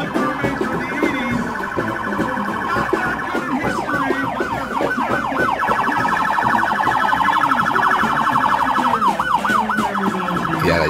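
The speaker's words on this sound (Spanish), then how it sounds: "Escuchamos ese coche de policía," A police car siren wails in rapid up-and-down sweeps, loud and nearby, over city traffic noise at a Coney Island parade, with no talking.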